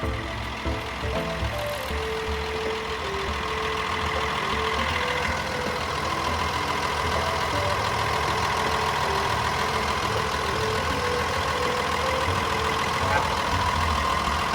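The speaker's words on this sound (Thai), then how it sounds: "การทำงานของตัวเครื่องยนต์ของเขาเนี่ยก็ ทำงานนิ่งๆนะฮะ" A Komatsu WA470-8 wheel loader's diesel engine runs steadily at idle, a continuous low rumble with mechanical whine, close and loud throughout with no pauses.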